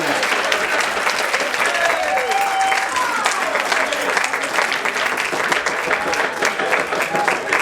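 Steady, enthusiastic applause from a wedding reception crowd after the toasts fills the room throughout, dense continuous clapping with a few cheers and voices mixed in.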